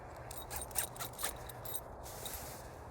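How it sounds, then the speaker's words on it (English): A sleeping bag zipper from a modular sleep system being run along its track, close and fairly quiet, with a couple of brighter catches over a steady low background hum. "there's a zipper on the inside so you can zipper it from, you know, the inside too"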